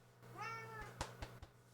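A house cat gives one clear, rising-then-falling meow, followed by a few soft thumps and clicks nearby, with no talking.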